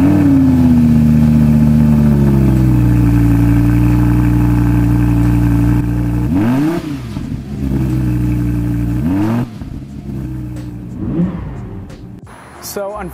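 Audi R8 V10 RWS rear-wheel-drive supercar with its V10 engine, loud and close, steady rev for six seconds, then sharp blips and rising revs with crackling exhaust pops, some talking mixed in.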